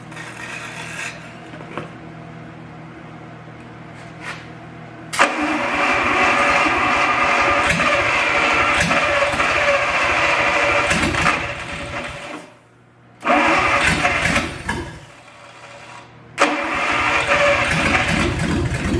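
A 1955 Dodge Hemi 270 engine of unknown running history being started: a whirring crank-and-run sound that begins abruptly, drops out, restarts and cuts again, loud and close.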